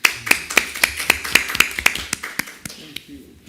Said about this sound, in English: please join me in thanking the speaker and with a round of applause